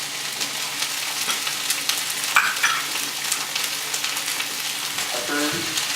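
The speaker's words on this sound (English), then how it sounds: "I'm going to let all of this saute for just a few minutes so everybody becomes nice and translucent." Onions, peppers and zucchini sauté in a hot pan for fajitas, giving a steady close crackling sizzle throughout, with a brief stir and utensil scrape midway and no voices.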